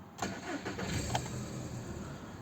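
A 2008 Skoda Octavia A5 with a 1.6 MPI BSE petrol engine and manual gearbox cranks and fires up, barely warmed after a short drive, then settles into a steady, close idle with no talking.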